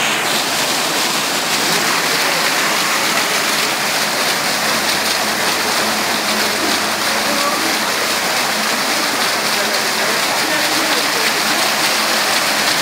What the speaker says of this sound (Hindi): शंकर भगवान की मूर्ति लगा के पानी आ रहा है ऐसे ऐसे ऐसे